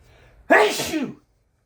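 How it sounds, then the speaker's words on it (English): A single loud sneeze bursts out after a quiet moment, sharp at the start and trailing off quickly into silence. "Pardon me, I just sneezed."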